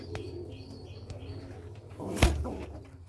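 Faint, low cooing of pigeons inside a home coop where jalali and white birds nest with young, broken by one sharp click near the end.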